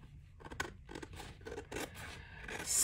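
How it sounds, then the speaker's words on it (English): Scissors trim paper for a junk journal, producing a close, quiet series of crisp snipping cuts in an irregular rhythm, with a soft rustle at the end. "I'm just going to flip it over, and we're going to trim it off"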